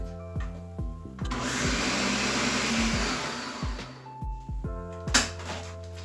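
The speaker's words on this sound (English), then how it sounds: "we're gonna blend it on low just until it's smooth" A blender running on low through a hoisin sauce mixture, a steady whirring motor hum for several seconds that starts and stops, with clunks and knocks around it.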